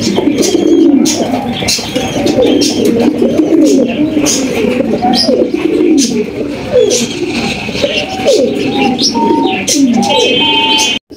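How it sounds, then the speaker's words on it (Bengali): A pair of large Global Lakha pigeons coo close by in repeated low, rolling phrases, with scattered chirps from other birds around them throughout. "এখানে কিন্তু দেখার মতো একজোড়া আমরা লাখা কবুতর দেখতে পাচ্ছি"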